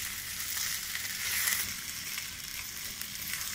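Okra frying in a pan for bhindi do pyaza, a continuous close sizzle and crackle at an even level, with no voices.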